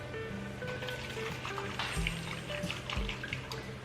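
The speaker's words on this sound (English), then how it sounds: "I put just enough water in the container with the arrowroot powder" Water pours steadily into a container holding arrowroot powder to make a slurry in a home kitchen. The stream is close, continuous and fairly loud, with no talking over it.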